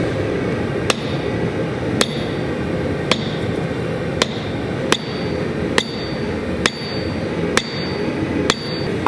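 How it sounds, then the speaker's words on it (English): A blacksmith's hammer forging a metal leaf strikes sharply, ringing out about once a second, nine evenly spaced blows on metal under a steady background roar. "He's swinging his hammer like a boss."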